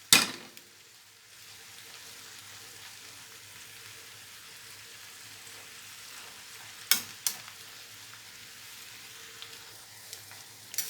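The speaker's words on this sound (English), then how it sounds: "I'm just giving it some stir, mixing everything together." Macaroni pasta mixture with egg white is stirred in a pan, giving a faint steady sizzle with a few sharp scrapes and clinks of the utensil, quiet and with no talk.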